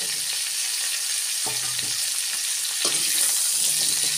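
Pumpkin, carrot and cauliflower fry in hot oil with a continuous bright sizzle, close and steady, while a utensil stirs and scrapes the pan now and then.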